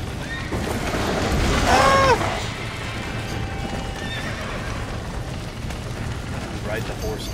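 In the video game Red Dead Redemption, a horse whinnies loudly once, a rising-falling neigh, over steady rumbling background noise with faint hoof-like clatter.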